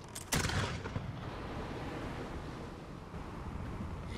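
Ship cannons fire from the port side in Blackwake, one sharp boom near the start that rolls into a long rumbling wash of noise like surf and wind, with no voice.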